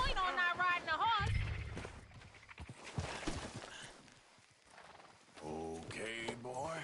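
Horse hooves clip-clopping while riding in Red Dead Redemption 2, heard under game dialogue, with a horse neighing and whinnying near the start and character voices talking over most of the clip.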